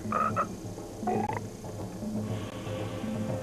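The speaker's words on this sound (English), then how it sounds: "Even if you're a green tree frog." Green tree frog croaking close by in a few short, loud, raspy calls, repeated at an uneven rhythm over a low background hum.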